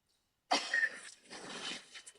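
Someone coughs after a drag on a joint, a sudden close harsh burst followed by a rougher second cough and a few faint trailing rasps, heard alone in quiet.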